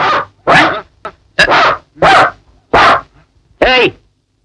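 A dog barks loudly and close by, about seven sharp barks in an uneven rhythm, with a whimpering, yelping edge on the last one.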